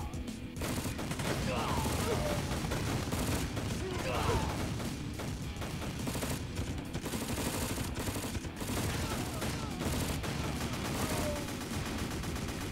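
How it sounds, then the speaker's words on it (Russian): Sustained battlefield gunfire in the video game Crisis, a tank shooting while surrounded by troops, steady dense rattling of shots and explosions running unbroken throughout at moderate level. "танк там среди войска отстреливается и взад, и вперед"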